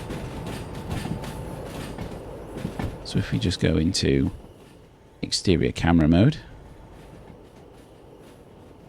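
A train rolls along in the railway simulator game Derail Valley, with a low rumble and occasional clatter running beneath someone speaking, which grows louder near the end.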